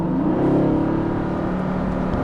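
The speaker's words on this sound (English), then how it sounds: "The car suddenly comes alive with a snarl." A Mercedes-AMG GT S engine in sport mode revs up with a deep, growling roar, loud and close, holding a steady throaty drone as it pulls along.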